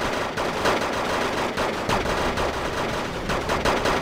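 Rapid automatic grenade-launcher fire from Navy SEAL infantry in the Wargame Red Dragon video game, a continuous rattle of loud, punchy shots with overlapping impacts running steadily throughout.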